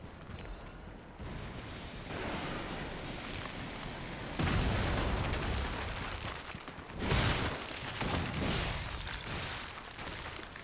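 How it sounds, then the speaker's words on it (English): Explosions in the Lies of P game, Overture DLC: a broad, dense roar of blasts with loud surges near the middle and again toward the end, sustained for several seconds without talk. "Damn, that explosion has no radius."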